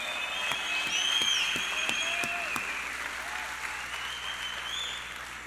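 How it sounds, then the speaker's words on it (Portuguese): A church congregation applauds a man named Jonas, who lost both forearms, as he comes forward to give his testimony; steady, moderately loud clapping fills the space, with faint chirping tones and scattered murmurs behind it. "Salva de palmas a Jonas."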